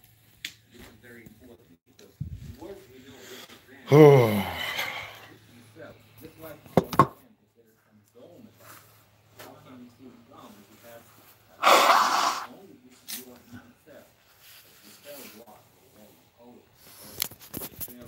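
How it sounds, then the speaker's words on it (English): Two loud, breathy honks from someone blowing their nose at home, separated by several seconds, with someone talking quietly and small handling noises in between. "I gotta blow my nose."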